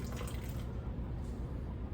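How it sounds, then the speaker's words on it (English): Jalapeno pepper water poured from a jar into a container of guacamole, a soft, close trickle and gurgle of liquid, brief and low, with no talk. "Since I squeezed all of my lemons, so I use some of the jalapeno water or the pepper water."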